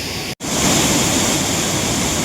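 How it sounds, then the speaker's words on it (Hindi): A waterfall in the mountains near Manali roars close and loud as a steady, dense rush of falling water that continues unbroken after a brief cut at the start. "भाई दिस इज दी वाटरफॉल जिसके लिए हम इतना रास्ते तय करके आए।"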